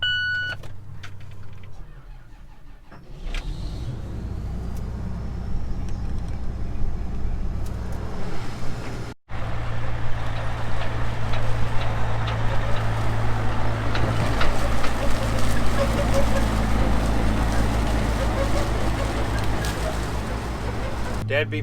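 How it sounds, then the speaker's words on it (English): A combine harvester engine starts and settles into a loud, steady low drone out in a farm field, with a short break partway through before the running resumes, and no speech over it. "I'm going to check over the combine and get it started while we're out here."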